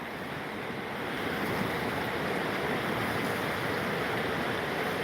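A fast, dangerous whitewater river runs high, a dense steady rush of churning water close by with no voices over it.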